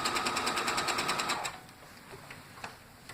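A sewing machine runs a quick burst of back-stitching on quilt binding, a rapid even needle rattle lasting about a second and a half, then stops, leaving a few soft clicks and handling noises.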